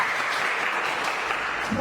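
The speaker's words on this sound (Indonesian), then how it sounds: "Sekali lagi tepuk tangan." Classroom applause from students in a school lesson, a steady dense patter of many hands clapping together throughout, close and fairly loud with no talk over it.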